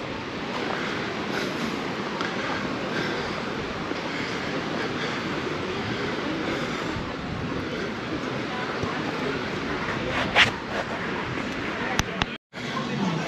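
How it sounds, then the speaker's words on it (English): A steady rumbling clatter of a freight train rolling along nearby in Playa de Palma, Mallorca, continuous and fairly loud, with people talking over it. "There's another train."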